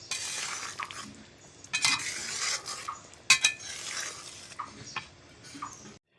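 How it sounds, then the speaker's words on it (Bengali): A spoon stirs ground garam masala into a pot of potato curry in a village kitchen, scraping and clinking against the metal pan, close up, in irregular strokes with a faint sizzle. "আমি গরম মশলাটা সুন্দর করে মিশিয়ে দিচ্ছি।"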